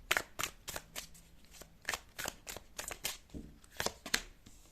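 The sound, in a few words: tarot cards being shuffled and drawn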